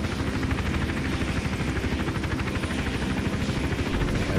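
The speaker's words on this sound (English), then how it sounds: "And of course the helicopter doesn't really help out with that whole situation." A helicopter in the video game Hitman: Absolution, its steady rotor chop and engine drone loud and constant throughout, with no talking.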